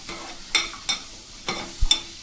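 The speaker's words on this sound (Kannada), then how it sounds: "ಬೆಳ್ಳುಳ್ಳಿ, ಹಸಿ ಶುಂಠಿ ಇದು ಕೂಡ ಸೇರಿಸ್ಕೊಂಡು ಹುರ್ಕೊಳ್ಳೋಣ. ಚೆನ್ನಾಗಿ ಫ್ರೈ ಮಾಡ್ಕೊಳ್ಳಿ." Garlic and raw ginger fry in a pan for Mangalore-style chicken sukka, with a few sharp scraping stirs of a spatula over a faint sizzle, close and quiet.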